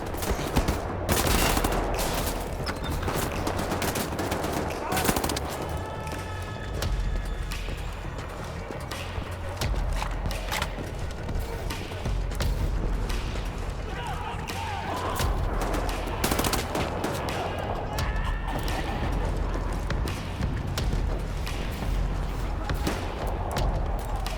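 Dense gunfire rattles through a battle at an enemy compound in the PC game Wolfenstein: The New Order, with continuous automatic bursts and sharp shots sustained loudly throughout and little speech.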